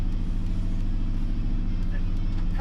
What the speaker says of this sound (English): So we've got a very healthy, happy singing international harvester.